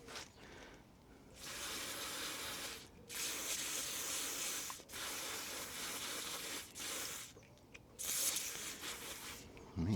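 Aerosol electrical contact cleaner sprays in long hissing bursts near a Range Rover L322 Supercharged with a failed ZF 6HP26 gearbox, three sustained blasts separated by short pauses, close and fairly loud.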